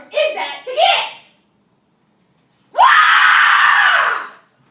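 A loud, sustained scream of about a second and a half from a performer in a school history day skit, coming right after a stretch of excited speech and a brief silence.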